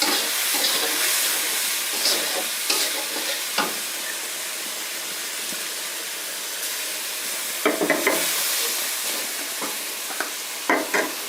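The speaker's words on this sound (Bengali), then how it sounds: "মশলাগুলো দিয়ে এখন আমি ভালো করে কষিয়ে নেব।" Spices sautéed and stirred in a pan for a vegetarian cauliflower and potato curry, a steady sizzle under scattered scraping taps of a spoon, with a few louder scrapes near the end and no talking.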